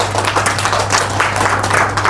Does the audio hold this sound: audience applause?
yes